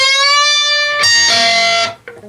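Solo electric guitar plays a twangy country-style phrase: a held bent note, then a brighter double-stop that rings before a short picked note at the end.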